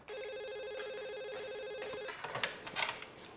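A telephone rings with a steady electronic warble, repeating evenly for about two seconds before stopping, followed by faint shuffling and handling noises as it is picked up.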